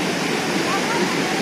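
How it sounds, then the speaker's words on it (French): Waterfall on a river in Koh Samui, a steady, loud broadband rush of falling water that fills the whole moment without letup, heard close by. "C'est une très belle cascade et c'est super agréable de se baigner ici."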